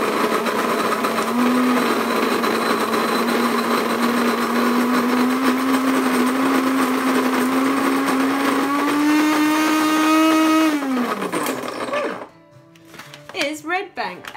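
Coffee beans ground in a small electric coffee grinder, a loud steady whirring motor that runs for about ten seconds, rising slightly in pitch, then winds down and stops, followed by some handling noise.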